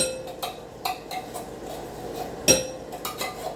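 A utensil stirs enchilada sauce, mushroom soup and tomato sauce into hamburger browning in a pan, with scattered clinks and taps of metal on the cookware and a sharper knock partway through.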